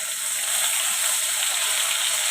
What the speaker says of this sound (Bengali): আলুটা ফ্রাই করে নিয়ে নিব, তাড়াতাড়ি হয়ে যাবে।